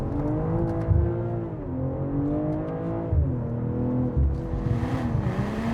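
BMW M440i's B58 inline-six engine accelerating hard, a loud, close rising growl with shifting pitch that dips and climbs again across gear changes, steady and continuous with no talking.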